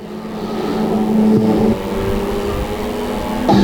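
Prostox stock cars race around the Cowdenbeath racewall oval, their engines droning loud and steady as a pack passes close by, with revving pitch shifts and a sharp rise in level near the end.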